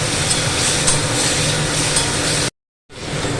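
Cumin and chili powder sautéing in hot oil in a pan, a steady close sizzle that suddenly cuts out for a moment and then returns.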